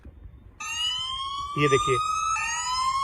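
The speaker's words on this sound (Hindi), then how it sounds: "जैसे सिम निकला ये सायरन बज गया और अब मैं इस फोन का कुछ नहीं कर सकता" An anti-theft phone app siren sounds after the SIM tray is pulled from a mobile phone, a loud, piercing electronic wail that starts abruptly and holds, with someone speaking over it.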